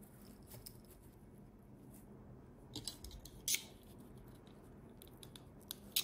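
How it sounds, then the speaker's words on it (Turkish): Scissors trim the excess yarn of a crocheted net bag in a quiet room, giving a few faint, sharp snips and clicks scattered over several seconds, with one crisp cut standing out midway. "Evet, fazlasını kestim."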